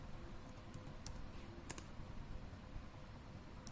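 Quiet keystrokes on a computer keyboard type out a short word in quick, irregular clicks, with a few sharper taps standing out against a faint background hum.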